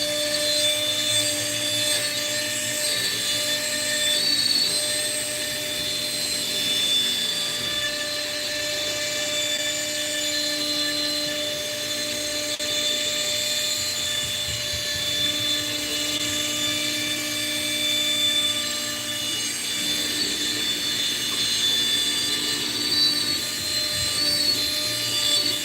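A CNC router makes a finishing pass on wood, giving a steady high-pitched spindle whine with a layered motor hum that holds continuously throughout, close and without talking.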